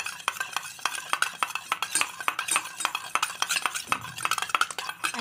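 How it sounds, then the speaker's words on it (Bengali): A spoon stirs a homemade hair-care mixture for hair fall and dandruff in a small bowl, giving rapid, continuous clinks and scrapes close up with no voices. "একটা চামচের সাহায্যে এটাকে ভালো করে মিশিয়ে নিতে হবে।"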